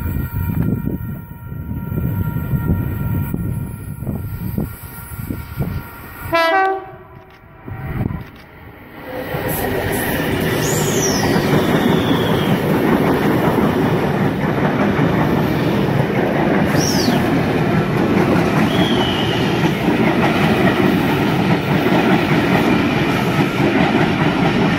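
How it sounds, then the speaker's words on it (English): A Sydney train passes through the platform at Wondabyne station during the morning peak, its loud, steady rumble and wheel clatter filling the scene after a brief lull and a short announcement chime. "Flyer about to pass through platform number 1."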